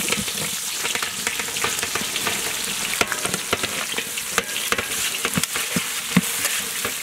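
Onion frying in oil in a village kitchen for a prawn gravy, crackling with a close, busy sizzle full of sharp pops and spatters while a spoon stirs through it repeatedly.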